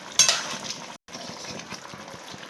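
Jackfruit and prawn curry with ghee and garam masala being stirred in a pan: soft scraping and sizzling, with a brief clink of utensil at the start, a short break, then more quiet stirring.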